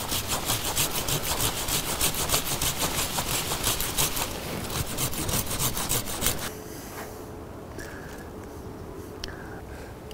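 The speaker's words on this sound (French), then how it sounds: "Là je vais me servir de la scie pour ouvrir le centre de la plante." A hand saw cuts through an apricot tree branch during pruning, rapid rhythmic rasping strokes loud and close for about six seconds, then slower, quieter strokes as the cut finishes.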